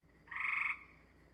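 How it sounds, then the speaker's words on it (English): A gray tree frog gives a single short pulsed trill at a flat pitch, lasting about half a second, clear and fairly near against a quiet marsh background. "our two tree frogs, the gray tree frog, which has, you can hear the pulses in it"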